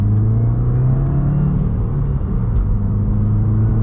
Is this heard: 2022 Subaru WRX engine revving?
yes